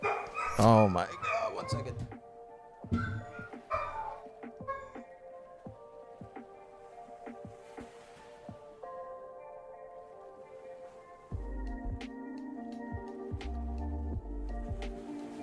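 A dog barks and yips several times in a neighborhood street, sharp bursts scattered among people talking, with a rumbling stretch of movement near the end.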